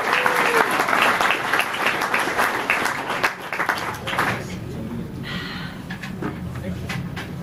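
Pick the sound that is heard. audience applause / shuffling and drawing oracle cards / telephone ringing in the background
audience applause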